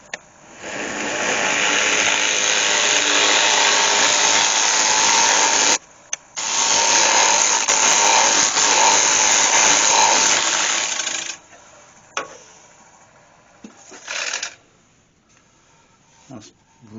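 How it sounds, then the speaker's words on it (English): A ball nose scraper cuts a glued-up wooden bowl on a lathe, giving a loud, steady rushing whir for about eleven seconds with a brief break, then quieter scraping touches and near silence. "I'm just going to go with my ball nose scraper."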